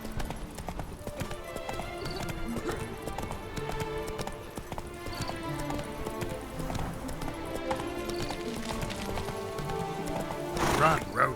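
Roach the horse gallops in The Witcher 3, with steady clip-clop hoofbeats and a whinny near the end, set against a continuous game music score and voices.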